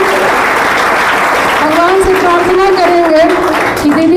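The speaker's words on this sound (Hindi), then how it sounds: "तो दीदी के लिए आप लोग जोरदार ताली से स्वागत करेंगे।" Students at a 10th-grade farewell ceremony applauding loudly, a dense continuous burst of clapping from a large group with a voice speaking over it.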